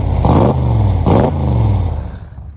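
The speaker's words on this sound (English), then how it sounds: "Backdraft does an absolutely excellent job with this car. They start right up, they hold idle" A Backdraft Cobra replica's engine gives two sharp revs a second apart over a rumbling idle, then the idle settles and fades, loud and close.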